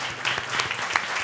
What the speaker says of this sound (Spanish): Así que deseo un aplauso.